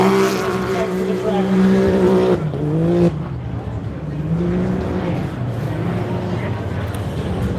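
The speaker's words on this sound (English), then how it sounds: "Side-by-side getting maximum grip off the start line." A four-wheel-drive side-by-side off-road race vehicle launches hard from the start line at the Loveday 400, its engine roaring loud and close before the note drops and carries on steadily as it pulls away.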